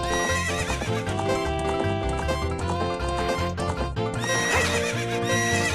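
A horse in The Legend of Zelda: Ocarina of Time whinnies over steady clip-clopping hooves, set against continuous game music with no talk.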